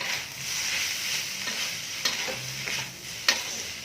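Chili flakes are stirred into a spicy dish in a sizzling pan, giving a steady frying hiss with scraping spoon strokes and a few sharp clinks against the pan, close up.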